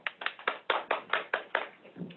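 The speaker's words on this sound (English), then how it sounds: "That noise you hear in the background is a roar of applause from everybody." Applause at an awards ceremony for Citizen of the Year and Lifetime Achievement honours, heard as about ten distinct, evenly spaced hand claps at close range with no talking.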